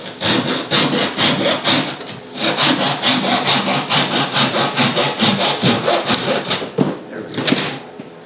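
A Tajima Japanese hand saw cutting through wood: fast, regular push-pull rasping strokes, loud and close, in a steady rhythm with a brief pause partway through.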